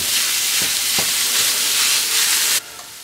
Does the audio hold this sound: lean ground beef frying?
yes